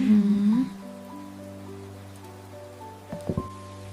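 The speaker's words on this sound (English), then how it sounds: "I appreciate the rain falling outside my window." Rain falls outside a window as a soft, steady patter that stays faint beneath sustained musical tones throughout.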